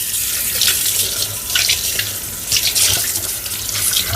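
Water pours steadily into a pot or pan while cooking, a close, continuous splashing rush with slight surges and no voices.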